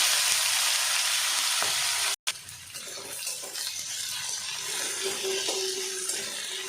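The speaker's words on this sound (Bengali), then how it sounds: "তারপরে কিছু কেটে রাখা পেঁয়াজ দিয়ে দেবো।" Chopped onions and whole spices (bay leaf, cinnamon, green and black cardamom, mace) fry in hot oil, a continuous soft sizzling hiss with a brief cutout and faint clinks, close and without talk.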